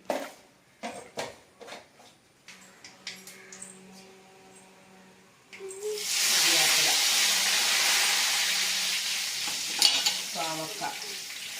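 Bitter gourd frying in a pan of oil, a steady loud hiss and sizzle that sets in after scattered clinks and clatter of utensils, continuing with occasional stirring sounds.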